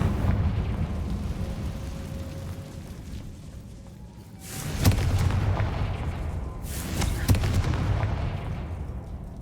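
The Confringo blasting spell in Hogwarts Legacy sets off two booming explosions a couple of seconds apart, each a loud burst over a steady rumbling game background.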